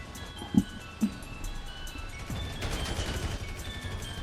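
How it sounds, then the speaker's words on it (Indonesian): Two sharp gunshots ring out into the air in GTA V, a moment apart, followed by a busy game soundscape of rumbling noise. "Tembakan ke udara, awas."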